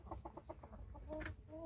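A Silkie chicken clucks in an allotment pen, a quick run of soft close clucks followed by a longer call, faint and alone.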